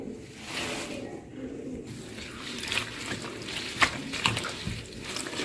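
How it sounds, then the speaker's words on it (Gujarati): Fenugreek leaves being washed in a vessel of water give close sloshing and splashing, with several sharper drips and swishes as the leaves are stirred by hand. "એક વાસણમાં મેં પાણી લીધું છે એમાં ત્રણ ચાર વાર ધોઈ લઈએ છીએ"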